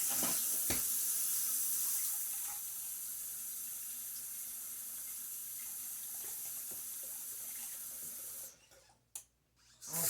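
Steady hissing stream of water from a kitchen faucet fills a cooking pot to soak it, continuous and fairly close, then cuts off near the end with a few brief clatters.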